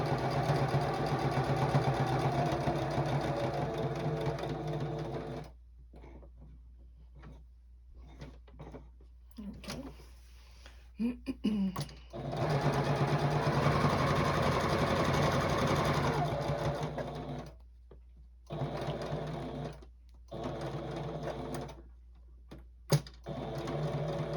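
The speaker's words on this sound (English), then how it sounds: "you don't want to go backwards with it when you're stitching" A sewing machine stitches a quilted star tabletopper in close, loud runs of rapid stitching, stopping and starting several times with short quiet gaps between bursts.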